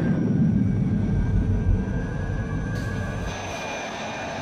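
Chemical rocket engines of the Zero-X spacecraft in a LEGO movie launch sequence give a loud, continuous rumbling roar with a high steady whine above it.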